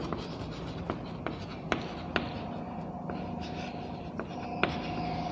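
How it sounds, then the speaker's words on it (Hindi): Chalk writing on a classroom board during a chemistry lesson, a series of short scratchy taps and strokes at an irregular pace, close and moderately loud with no talk. "तो यहाँ पर लिख देता हूँ मैं"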